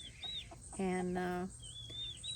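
Backyard mother hens clucking near their chicks, with a loud, close drawn-out cluck in the middle and thin chick peeps before and after, while a person speaks briefly.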